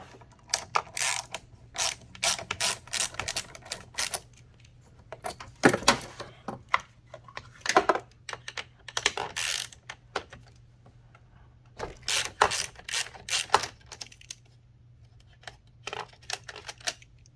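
Ratchet wrench loosening the bolts holding a Hyundai Sonata battery, quick bursts of clicking pawl strokes repeated in short runs with pauses between, close and fairly quiet.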